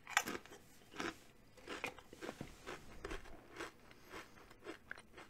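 Halo Pringles Moa Burger flavor potato chips are crunched and chewed up close, with sharp crisp bites followed by a rhythmic series of softer crunches at roughly half-second intervals.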